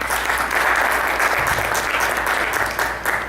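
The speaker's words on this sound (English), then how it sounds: "let's give a big round of applause for him" An audience at a quantum physics and consciousness talk in Saratoga breaks into a full round of applause: dense, steady clapping that stays loud and even for the whole stretch, with no voices.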